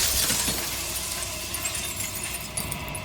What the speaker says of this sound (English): A crack slides down the center, splitting the image of the glass into.